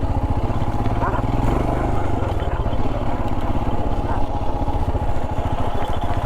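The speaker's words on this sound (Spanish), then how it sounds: "Linda moto, ¿eh?" A motorcycle engine rumbles steadily up close with a throbbing, pulsing drone throughout, loud and continuous, with faint street noise around it.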